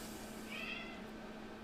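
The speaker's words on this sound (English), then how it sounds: "My cat's meowing in the background." A cat meows once, faint and somewhat distant, behind a quiet background hum.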